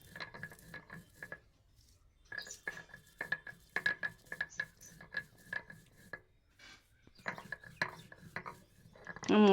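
Roasted spices are ground by hand while still warm, producing bursts of rhythmic scraping and grinding strokes broken by short pauses and light clinks.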